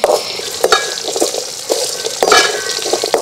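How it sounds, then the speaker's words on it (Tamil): Shallots sautéing in a pan over a wood-fired stove, a steady close sizzle with a few sharper bursts of stirring scrapes and spatters, no voices. "கூடவே சின்ன வெங்காயம் சேர்த்துக்கலாம். இதெல்லாம் சேர்த்து நல்லா வதக்கலாங்க."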